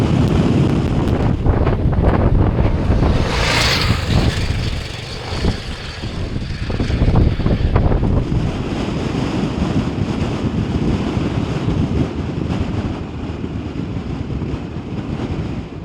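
Strong wind roaring and buffeting the microphone continuously on a Scottish hill pass, a loud, rumbling gusty rush with no voices.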